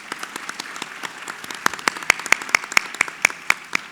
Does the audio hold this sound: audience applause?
yes